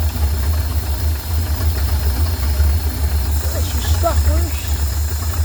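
A carbureted engine idles steadily with a constant low rumble and a faint knock. It runs close and continuous for the whole stretch while a person talks over it.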